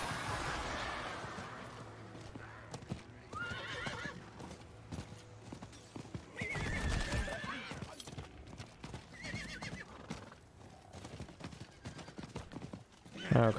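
A horse in the Diablo IV video game trots with crisp clip-clop hoofbeats, breaking into several loud neighs and whinnies, with faint clanking game effects in the background.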